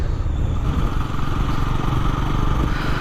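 A Bajaj Pulsar NS400Z motorcycle engine holds a steady, loud drone at highway cruising speed, with dense low rumble and wind roar continuing unbroken for a few seconds.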